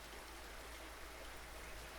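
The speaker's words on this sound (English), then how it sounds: "It's only drizzling." Light rain drizzles outside, a faint, steady wash of soft patter and hiss with no distinct drops standing out, continuing evenly throughout with no voices.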